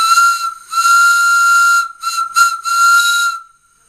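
A 7 1/4 inch gauge Corpet Louvet 030T tank locomotive sounds its steam whistle, a loud shrill tone with hiss, held long, then broken into short toots, and a final sustained blast.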